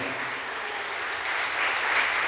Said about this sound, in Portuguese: Você pode aplaudir o Senhor pela sua família?